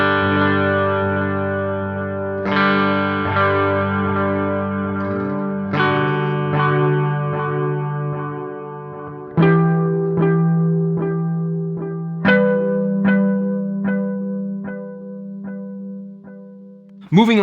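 Guitar notes run through a Sonicake Levitate delay and reverb pedal, each loud plucked chord or note ringing out with long echoing repeats and a reverberant tail, about five attacks spread evenly, alone with no talk.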